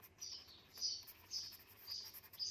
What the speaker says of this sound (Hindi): ये बाहर चिड़ियाँ बहुत शोर कर रही हैं, इन्होंने घोंसला बनाया हुआ है